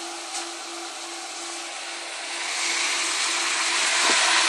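Cooling fans moving about 260 CFM of air through a 4-channel car amplifier box give a steady broadband whoosh that swells slightly louder toward the end, with a faint tonal hum underneath and no talk.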